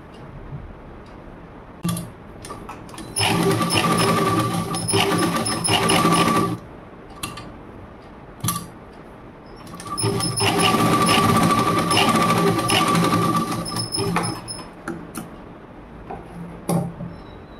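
A sewing machine stitches a half-inch seam joining the shoulder of a blouse, running in two long, steady whirring bursts with pauses of clicks and fabric handling between them.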